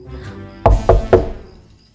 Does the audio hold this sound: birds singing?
no